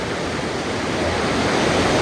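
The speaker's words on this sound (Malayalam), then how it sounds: "ഈ വെള്ളം ഒഴുകി പോകണിതാ വെള്ളിയങ്കലിൻ്റെ മറ്റേ ഭാഗമാണ് സംഭവം ഇങ്ങനെ ഒഴുകി പോന്നു" Water rushing steadily over rocks at Velliyamkallu in Thrithala, Kerala, past an open shutter, a loud broadband roar with no breaks and no voices.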